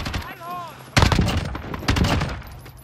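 Loud blasts and gunfire in a stealth action video game, two heavy explosive bursts following a quieter stretch of electronic whirring, close and punchy.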